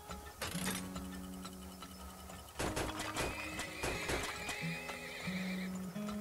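Horses in the video game Turmoil neigh and whinny in several loud bursts over a soft clip-clop of hooves, with mechanical ticking and drilling sounds running underneath.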